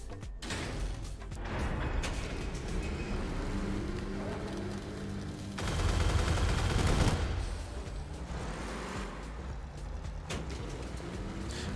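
Rapid weapon fire with heavy recoil in the vehicle combat game Crossout, bursts of shots over engine drone and game noise, with one denser, louder volley in the middle.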